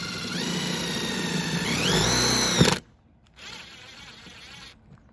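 A power drill whines loudly while boring a pilot hole into the metal body of a Chevy Express camper van. The pitch rises under load and stops abruptly, then a shorter, quieter run follows.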